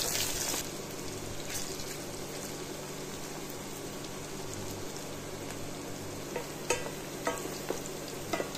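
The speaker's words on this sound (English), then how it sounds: "Saute until it just starts to brown." Chopped vegetables with garlic, onion and scallion sauté in hot oil with dried pimento for Jamaican-style curry chicken, giving a steady close sizzle with a few sharp stirring clicks toward the end.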